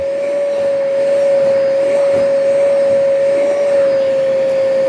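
Bissell Little Green Mini cordless cleaner running steadily with a strong, sustained suction whine and motor hum, loud and close, with no talk over it.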